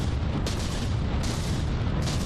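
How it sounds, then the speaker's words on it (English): Booming 500mm cannon fire in From the Depths: a dense, rumbling roar with repeated heavy blasts blending into continuous thunder, loud and unbroken throughout. "The thunderous sound of 500mm, I think it is."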